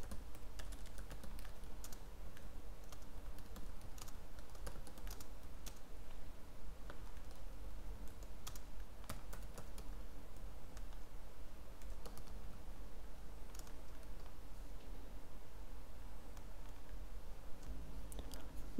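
Steady, quiet clicking of fingers typing on a computer keyboard while writing code, with irregular bursts of keystrokes continuing throughout against a low background hum.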